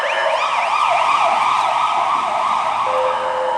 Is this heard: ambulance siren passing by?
yes